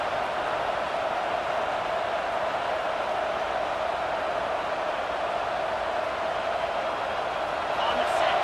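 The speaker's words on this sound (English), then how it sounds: "It's early, but this crowd is fired up. Listen to this noise here." Steady roar of a stadium crowd at a Texas A&M vs Colorado college football video game, a dense, continuous wash of noise holding at an even loudness throughout with no breaks.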